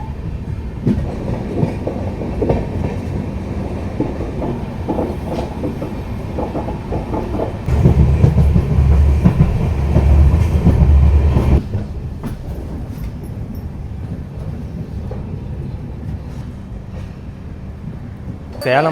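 A Salem Superfast LHB train rolls along the rails, a steady loud rumble with rhythmic clickety-clack and a heavier stretch midway, while people talk over the noise.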